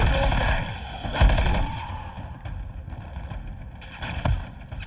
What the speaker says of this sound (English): He's still fucking shooting me, dude.